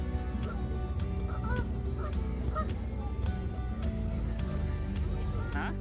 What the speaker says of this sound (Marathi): आजूबाजूला बदकं राजहंस इतके सुंदर दिसत होते